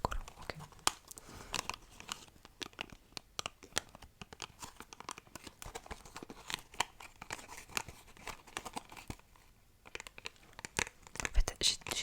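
Stickers peel from a Hello Kitty Happy Meal item in soft, close tearing and crinkling bursts, scattered irregularly at low volume with brief quiet pauses between.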